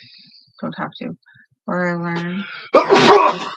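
A person sneezes loudly and abruptly, a burst following calm indoor speech and a short voiced intake, sitting close to the microphone.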